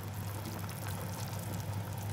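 Water pours from a bucket into a cooking pot for chicken tinola, a continuous rushing, splashing flow with a low hum beneath, steady and close throughout.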